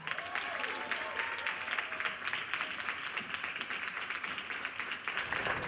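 A crowd applauds steadily at an event in Quintana Roo, the clapping dense and sustained, with a faint voice or tone briefly audible beneath it before the applause cuts off.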